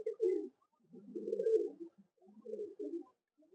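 A pigeon coos nearby in three soft, low, rolling phrases separated by brief pauses, with no other sounds around it.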